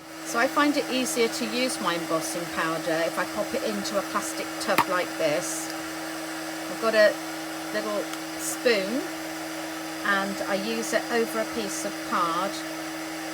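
A heat tool for craft embossing runs steadily as a loud, continuous whir while someone talks over it and spoons embossing powder with small clinks.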